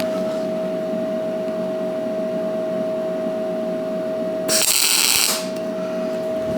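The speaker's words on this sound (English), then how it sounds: "I'm gonna go ahead and just start tacking it on" Tack welding on cast steel: over a steady electrical hum, one short, harsh crackling burst of the arc lasts under a second before the hum continues alone.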